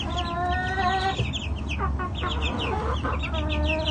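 Several chickens cluck and chatter close by in a dark barn or coop, overlapping squawks and short clucks against a low background hum, with no talking.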